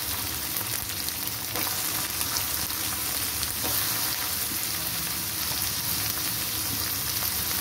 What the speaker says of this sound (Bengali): আমি এবার দিয়ে দিচ্ছি পেঁয়াজগুলো।